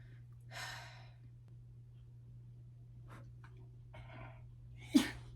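A single short, sharp sneeze bursts out near the end against a quiet room with a steady low hum and faint rustling beforehand.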